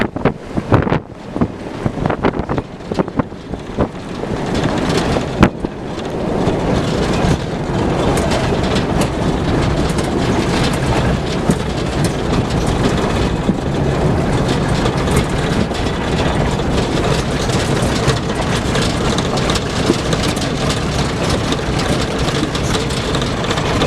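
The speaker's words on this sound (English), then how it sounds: "I'm going to step on the gas a little bit." A safari tour jeep on an off-road desert trail near Sedona, Arizona, accelerates with a loud, sustained rumble and rattle after a few knocks, accompanied by steady wind buffeting the microphone.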